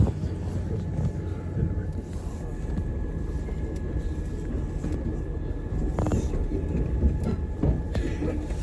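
A British Rail Class 170 diesel train rumbling along at a steady pace, heard from inside, with a constant low engine drone and occasional rattles and clunks.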